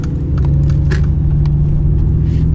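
A Mercedes-AMG G-Class 35th anniversary edition with the final naturally aspirated engine runs close by, giving a loud, steady, deep rumble with a constant droning note and faint small clicks above it.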